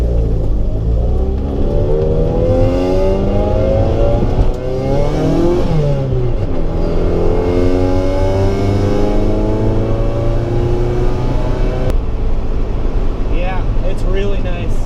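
A 1990 Honda Civic DX fitted with MaXpeedingRods coilovers accelerates on the highway, its engine note rising through gear changes under someone talking from inside the car.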